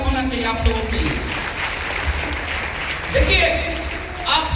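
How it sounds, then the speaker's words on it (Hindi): An audience bursts into loud applause welcoming new members, with dense close clapping that swells and fades over a few seconds while voices carry through it. "एक जोरदार ताली होना चाहिए आप लोगों के लिए।"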